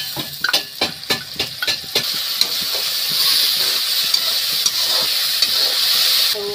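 Masala paste frying in oil in a kadai for a banana curry, opening with a series of quick scraping stirs and then settling into a steady, loud sizzle and hiss.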